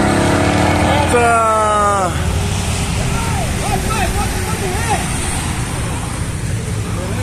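Jaguar car revving hard at a turbo car meet, a loud rising engine sweep followed by wavering revs over steady crowd and traffic noise, with people shouting nearby.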